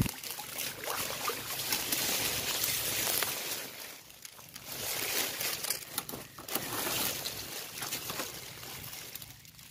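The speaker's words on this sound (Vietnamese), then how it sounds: "cái này phải lội qua suối" Someone wading across a jungle stream in rain: steady sloshing and swishing water with surging swells as legs push through, close and continuous, without speech.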